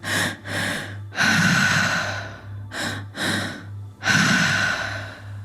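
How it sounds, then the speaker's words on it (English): Slow, deep breaths drawn in and let out audibly, several cycles in a steady rhythm over a low constant hum, no speech. "Breathing deeper, deepening that breath."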